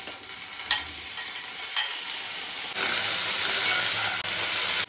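Cut potatoes, drained of water, fry in hot oil on a gas stove with a loud, steady sizzle and hiss, broken by a couple of brief clinks as they are stirred. The sizzle swells louder partway through.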